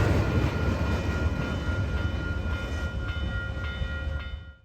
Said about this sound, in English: After the freight train, another southbound Downeaster comes into the picture.